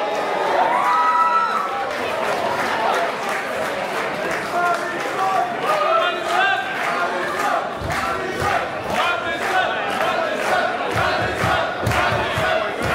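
A dense arena crowd at a women's pro wrestling match roars and cheers throughout, with rhythmic surges and shouts while a commentator talks over it.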